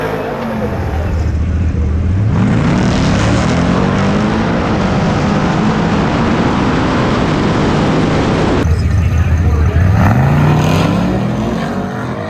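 Stock-appearing 1967 L88 Corvette launching at an NMCA drag race, its engine roaring loud and sustained as it pulls away, with a second rising engine surge near the end.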